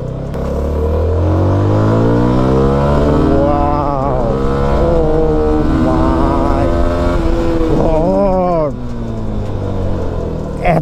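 CF Moto SR250 250cc motorcycle under way, the engine note climbing steadily through several gear changes with rising and falling revs, loud and close throughout.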